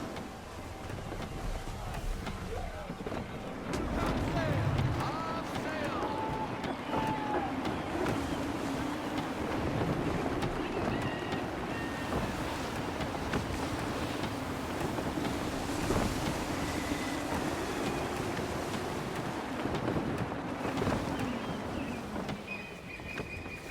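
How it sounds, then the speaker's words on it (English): Gusty wind sweeps steadily across open water while a sailing ship cuts through waves in the game Assassin's Creed 3, a continuous broadband roar with surging swells and faint higher creaks, with no one speaking. "Gusty winds can be difficult to manage."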